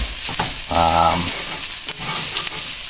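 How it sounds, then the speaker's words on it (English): Stuffed pork loin chops, filled with jalapeno and onion, fry in a cast iron skillet with a steady, loud sizzle close up, a brief voice-like tonal sound cutting through midway. "They're frying up great."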